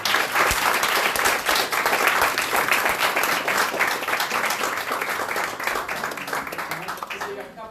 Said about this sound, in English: a big round of applause for Yanis